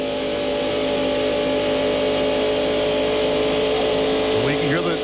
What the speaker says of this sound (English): We can hear the engine in Musgrave's car as they run wide open.